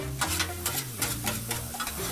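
Chicken fried rice sizzles on a Blackstone 22-inch griddle turned up to high heat while being stirred and scraped in quick, repeated strokes, close and fairly quiet.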